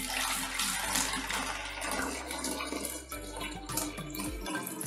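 Warm water pours steadily into a container for a Color Reveal doll, a continuous close splashing rush lasting several seconds with no talking.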